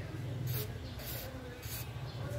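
Aerosol lubricant sprayed onto the inner parts of a ZTTO DR190 bicycle hub, star ratchets and spring, during maintenance, giving short repeated hissing bursts over a steady low background hum.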